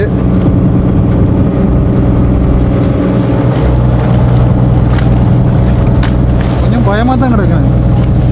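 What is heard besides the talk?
motorboat at sea in strong wind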